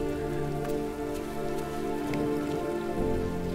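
Steady rain pours in the video game Road 96, a dense continuous patter of drops on surfaces with a few brighter individual splats, close and even throughout, over a low background hum.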